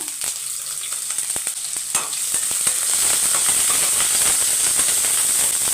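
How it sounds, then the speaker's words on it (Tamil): Unpeeled garlic cloves, small shallots and curry leaves fry in hot oil in a pan, a loud steady sizzle and hiss that builds and fills the whole stretch, close up with no talk. "அதுக்கப்புறம் நான் தோல் உரிக்காமைய ஒரு அஞ்சு பல் பூண்டு சேர்த்துக்கிறேன் அப்புறம் ஒரு பதினஞ்சு பல் சின்ன வெங்காயம் கருவேப்பிலை எவ்வளோ வேணால் சேர்த்துக்கோங்க"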